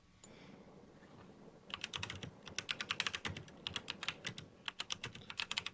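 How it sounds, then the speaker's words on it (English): Rapid clacking on a computer keyboard during a live game stream, close and fairly quiet, with irregular bursts of keystrokes and short pauses and no talking. "Stop with the keyboard."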